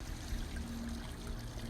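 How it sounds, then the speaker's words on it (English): Water pours steadily into a farm animal's trough in a steady, low-level stream, faint and continuous with no talk over it. "Joe, it's time for your water."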